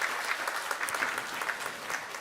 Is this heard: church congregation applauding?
yes